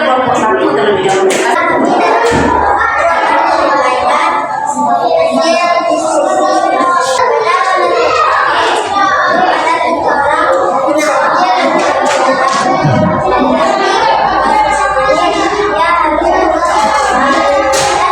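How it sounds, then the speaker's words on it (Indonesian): Classroom audience applauding after a group presentation, dense continuous clapping throughout with children's voices chattering underneath. "Masih tepuk tangan."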